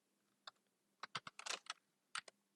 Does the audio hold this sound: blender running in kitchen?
no